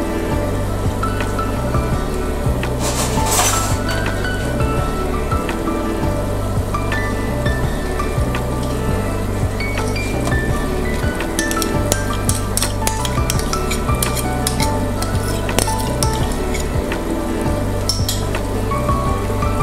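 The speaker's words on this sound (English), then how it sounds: "I'm just going to let that simmer for about 5 minutes." A sauce of reduced stock, crème fraîche and double cream simmering in the pan for salmon, making a steady, continuous bubbling sizzle with some crackle, under quiet background music and no talking.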